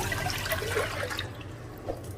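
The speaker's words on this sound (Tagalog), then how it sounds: "So, ilagay na natin ang ating tubig." Water is poured into a cooking pot that already holds condensed milk, chocolate powder and sugar for champorado, giving a steady, close splashing gush that eases off toward the end.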